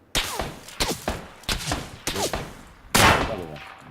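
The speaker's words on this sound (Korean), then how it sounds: "쏜다" A handful of punchy gunshots in the battle royale shooter PUBG, fired singly at roughly half-second to one-second intervals, each with a short echoing tail, fairly close and clear.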